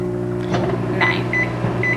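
Microwave oven running while dinner warms, a steady low hum with a few short beeps near the end, close and fairly loud.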